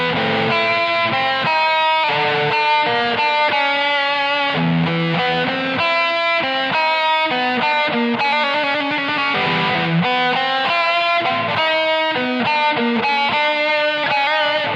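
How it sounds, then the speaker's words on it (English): A loud electric guitar riff played through an iOS amp and impulse-response loader app, dialed in with reverb and echo, dense, steady and continuous, with no talking. "We need to add some reverb,"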